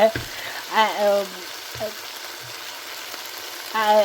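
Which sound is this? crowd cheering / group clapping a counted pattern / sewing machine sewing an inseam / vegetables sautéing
vegetables sautéing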